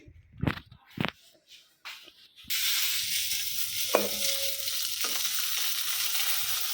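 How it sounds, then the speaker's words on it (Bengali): Tomato frying in a hot pan, starting with a few quiet knocks and scrapes, then a sudden loud sustained sizzle that hisses steadily with occasional clinks of a utensil. "তো বন্ধুরা প্রথমে টমেটোটা একটু বাইজা নিব"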